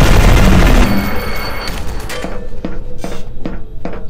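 Rapid automated turret gunfire in E.Y.E. Divine Cybermancy, a loud dense burst that gives way to a series of sharp, evenly spaced shots echoing in a game interior.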